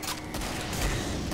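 The husk cannon fires in the co-op shooter Killing Floor, a short, loud, blasting burst with dense low rumble and crackle, heard close with no voices over it.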